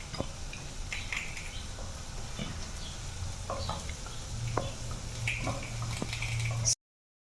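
Egg and sweet potato mixture frying on low heat in a pan, a soft steady sizzle with scattered spatula scrapes and taps, fairly quiet and close, ending abruptly.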